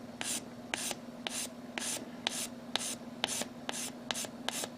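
Rhythmic back-and-forth sanding of a plastic Gundam model kit part (MGSD Freedom Gundam) with 400 grit sandpaper, about ten close, even strokes over a steady low hum.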